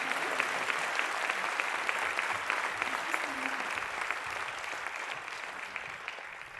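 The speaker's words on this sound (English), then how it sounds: "please give all of the founders and Revka, Gijs, and Toby a big round of applause." A conference audience in Amsterdam gives the founders a sustained round of applause, an even wash of clapping heard from within the room that carries on without a break for several seconds.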